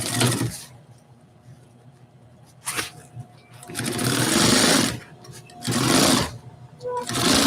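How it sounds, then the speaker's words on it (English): A sewing machine stitches across fabric in several loud, whirring runs separated by quieter pauses, heard up close. "I'm just going to do a little stitch across here."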